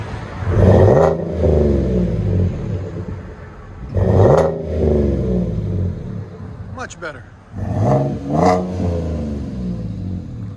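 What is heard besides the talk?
V6 Silverado with Flowmaster Super 10 exhaust revving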